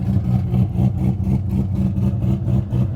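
The cammed 5.7-liter LS1 V8 of a C5 Corvette runs loud and close, with a choppy, lumpy idle that pulses rhythmically as it revs.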